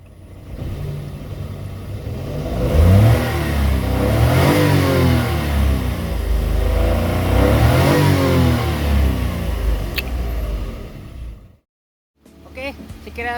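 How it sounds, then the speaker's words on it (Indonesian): A Siger type M car engine revs hard and repeatedly, its roar rising and falling in loud sweeping waves for about eleven seconds before cutting to a brief silence, with faint noise returning at the end. "Yang saya suka pada mobil Siger tipe M ini adalah suara mesin dan raungannya."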